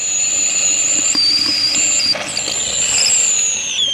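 Steam from a homemade rocket stove kettle sitting on an outdoor fire hisses and whistles in a loud, steady, high-pitched jet, with wavering squeals and brief pops over the continuous rush.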